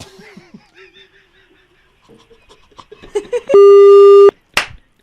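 After a call is hung up, a phone line gives a loud steady electronic tone lasting under a second, coming after quieter muffled noises and clicks.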